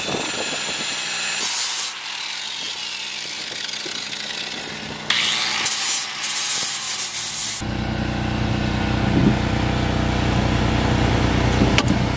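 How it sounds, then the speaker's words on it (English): Rust is scraped and ground off a cruising trimaran's hull during a haulout after ten years of bottom growth, with bursts of harsh rasping and a steady mechanical roar joining partway through. "Trying to get some of the rust off."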